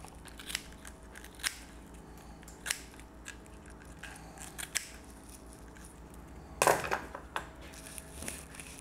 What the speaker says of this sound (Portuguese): vou pegar uma tesoura e vou cortar as pontinhas